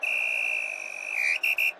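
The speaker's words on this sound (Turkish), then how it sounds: "Hakem son düdüğü çaldı." A referee's whistle in a head-ball football game gives one long, loud, steady blast, then two short sharp toots close together, with no other sound around it.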